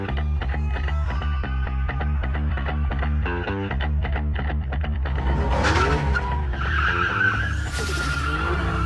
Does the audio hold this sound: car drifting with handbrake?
yes